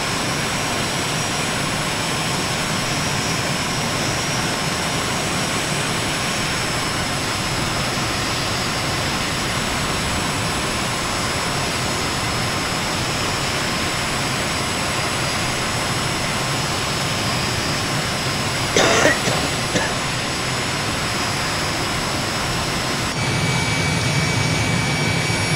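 An Aermacchi MB-339 jet aircraft over Miami produces a steady, loud, broadband jet roar that fills the entire stretch without letting up, with a brief rattling burst near the end.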